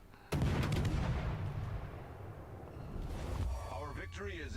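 Naval gun shells fire in a warship battle game: one heavy, loud boom sets off a long rumbling roar, and a voice talks over the tail end.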